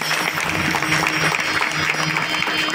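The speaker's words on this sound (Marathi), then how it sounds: "वाजवा टाळ्या एकदा" An audience at a Marathi kirtan devotional gathering claps together in steady, dense applause that holds evenly at moderate loudness for the whole stretch.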